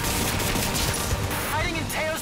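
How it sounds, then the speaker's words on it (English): Dense, continuous gunfire crackles with overlapping bursts, a sustained firefight in the game Marvel's Spider-Man: Miles Morales, while a voice speaks faintly underneath. "Need to head towards gunfire"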